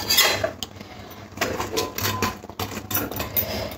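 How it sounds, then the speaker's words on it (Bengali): Fried fish pieces are dropped one after another into boiling poppy-seed gravy in a pan, producing close clinks and knocks of utensil against cookware with soft bubbling between them, no voices. "এবারে ভেজে রাখা মাছগুলো দিয়ে দেবো।"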